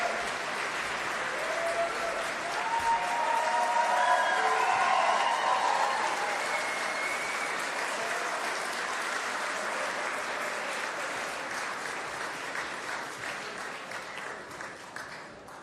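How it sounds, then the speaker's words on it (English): An awards-show audience at the Golden Joystick Awards 2025 applauds a live musical performance with sustained, dense clapping from a large crowd that swells early and slowly tapers off over about fifteen seconds. "Please, friends, another round of applause for our exceptionally talented musical guests"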